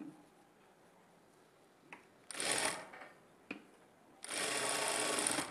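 A sewing machine puts a second line of stitching into a blouse. Two loud, close bursts of running stitch follow a few light taps and clicks.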